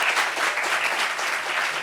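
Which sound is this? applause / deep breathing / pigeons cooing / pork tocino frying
applause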